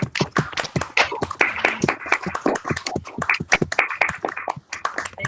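Online attendees in a video call clap for the speakers, uneven sharp hand claps from a few unmuted participants, some close and some thin, with brief murmurs mixed in.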